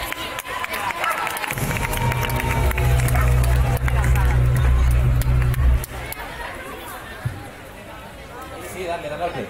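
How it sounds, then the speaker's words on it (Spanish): Audience at a cosplay contest in Gijón cheers and claps amid crowd chatter, with a loud low droning tone underneath for several seconds before the noise eases off. "¡Fuerte aplauso!"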